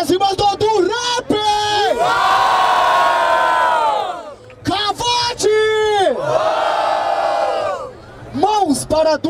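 A loud crowd at a Brazilian freestyle rap battle semifinal cheers and shouts in long surging waves, with whoops and yells swelling, dropping briefly, then rising again.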